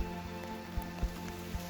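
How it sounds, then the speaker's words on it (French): Rain falls harder on an abandoned train station, making a soft, steady patter with a few slightly louder drops landing close by. "il se met à pleuvoir encore plus"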